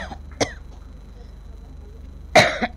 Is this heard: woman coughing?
yes